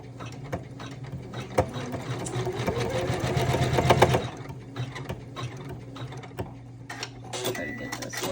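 A Janome embroidery machine stitches a design onto a shirt, giving a steady, rapid mechanical chatter that grows louder through the middle and then settles into a quieter whir with a few clicks.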